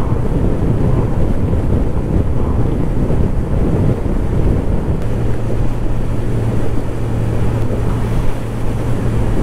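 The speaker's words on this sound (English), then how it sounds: "it's really really windy today as well" Strong wind buffets the microphone in a loud, steady roar outdoors in Glencoe and Glen Etive, Scotland, with a low rumble running underneath throughout.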